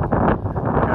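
Steady gusty high wind in a beehive yard buffeting the microphone with a low, rough roar throughout, fairly loud and close.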